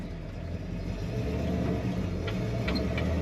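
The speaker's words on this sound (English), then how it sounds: "Very smooth running GTO, shifts nicely." A 1967 Pontiac GTO hardtop with a four-speed manual rumbles steadily while running, its low engine drone heard close and continuous with slight swells.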